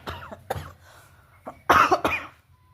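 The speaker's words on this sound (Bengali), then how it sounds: "কাশি হয়ে গেছে রে আমার, আরো কাশতেছি।" A woman coughing several times at close range, short harsh bursts with a heavier double cough near the end, alone without speech.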